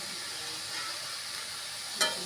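Shredded cabbage, green chili and beans stir-fry in a pan with a soft, even sizzle and a single sharp scrape of stirring near the end.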